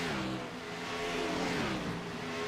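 A race car on a track drones steadily past, its engine note shifting up and down with a tire-scraping edge, loud and continuous with no talking over it.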